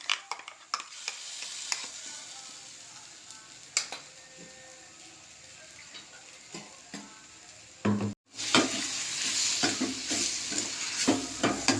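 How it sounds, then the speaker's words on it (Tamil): Quiet sizzling of a thick paste frying in oil, with spatula scrapes and taps against the pan; the sizzle swells louder near the end. "ஃபஸ்ட்டு தண்ணி ஊற்றாமல் வதக்கிக்கோங்க"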